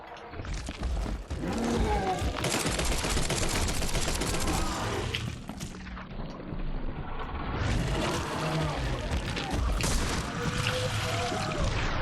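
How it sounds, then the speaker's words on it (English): Submachine gun fire in The Sinking City game: dense rapid bursts of shots that are loud and sustained, with a short lull midway before the firing resumes over game ambience. "that submachine gun is powerful"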